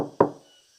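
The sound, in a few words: knocking on a door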